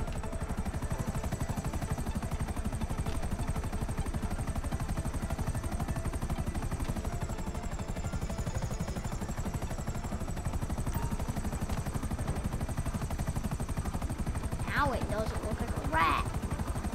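A helicopter in the video game GTA gives a continuous rapid rotor chop throughout, loud and close, with brief electronic sweeps near the end.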